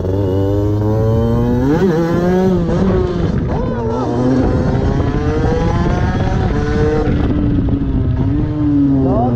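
A 50cc moped fitted with a Most exhaust pulls hard from second up to fourth gear, its loud, buzzing two-stroke note climbing and dropping at each shift, close and continuous throughout.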